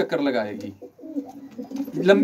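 Soft pigeon cooing sounds close by, mixed with a person talking nearby.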